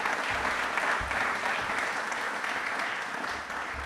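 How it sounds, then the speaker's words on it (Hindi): Audience in a Republic Day quiz studio for DD Rajasthan giving a sustained round of hand clapping, fairly soft and even throughout, with no voices over it. "जोरदार होनी चाहिए इनके लिए, जोरदार वाली तालियां"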